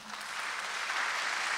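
An audience at a public debate for the Fukushima gubernatorial election claps together in a brief, dense, steady burst of applause, moderately loud throughout.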